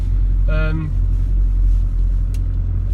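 A 2005 Mitsubishi Shogun Sport in four-wheel drive without locked differentials labours up a steep off-road slope, its engine giving a loud, steady low rumble heard from inside the cab, with a brief voice and a short whine partway through.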